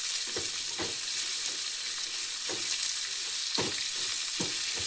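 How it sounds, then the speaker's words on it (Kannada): Onions and chillies fry in oil with a constant bright sizzle, punctuated by several separate stirring scrapes, close and clear with no talk. "ಇದನ್ನು ಚೆನ್ನಾಗಿ ಎಣ್ಣೆಯಲ್ಲಿ ಫ್ರೈ ಮಾಡ್ಕೊಳ್ಳಿ."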